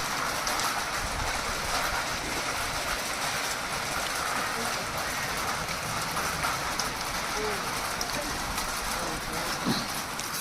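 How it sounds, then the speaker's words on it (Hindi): Heavy rain pours steadily in a lower hill area near Manali, a dense, constant hiss without breaks; a voice speaks faintly in the background. "बारिश काफ़ी ज़्यादा तेज़ हो चुकी है।"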